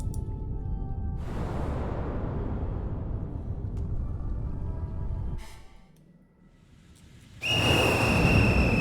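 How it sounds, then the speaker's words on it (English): A whistle blown by a small raincoat-clad monster in Ghostwire: Tokyo rings out as a steady high double tone near the end, after a long whooshing, rumbling game ambience and a brief lull. "As the monstrous little raincoat visitor blows his whistle, he steps back into the shadowy darkness."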